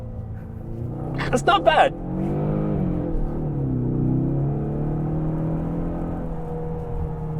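A 2024 Ford Mustang EcoBoost downshifts with a short rev blip, and its engine drone then settles into a steady hum heard from inside the car. Someone speaks briefly over it.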